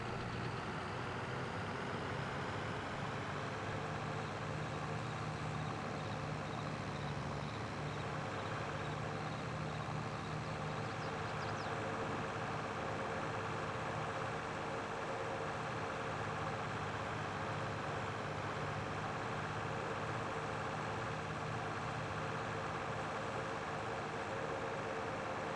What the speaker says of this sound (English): At least this little tractor's getting some use.